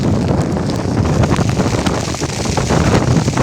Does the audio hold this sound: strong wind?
yes